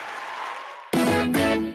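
A studio sound effect on a basketball talk show: a bright ding together with a short, loud burst of applause that cuts in sharply after quiet background talk and stops abruptly.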